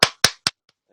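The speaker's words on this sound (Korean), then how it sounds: "박수 한번 진짜 쳐야겠다, 진짜." One person claps three times, sharp and close, in a quiet room during a Bible study talk on Romans. Two much fainter taps trail off afterward.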